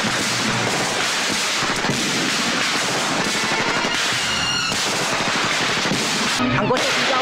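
Rapid bursts of gunfire crackle through a film battle scene against communist forces, dense and loud throughout, with voices faintly mixed under the shots.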